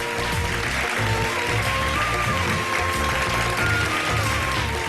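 A studio audience at a live iftar game show claps steadily for a car prize winner, a dense, continuous wash of applause under a faint music bed with no pauses.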